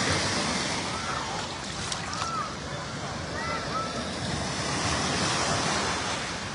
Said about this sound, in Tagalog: This is artificial wave.